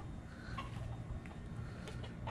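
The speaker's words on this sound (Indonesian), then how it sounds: "Jadi ayam ini suaranya seperti ayam hutan guys." A few soft chicken clucks resembling a jungle fowl's call come through faintly over steady low background noise, with no talking.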